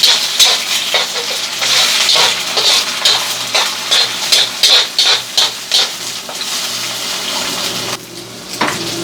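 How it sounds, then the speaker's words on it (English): Two cracked eggs being scrambled in a frying pan for Filipino fried rice, with a steady loud sizzle under repeated scraping and stirring strokes of a utensil against the pan, easing off near the end. "I have 2 cracked eggs. And I'm just going to cook these,"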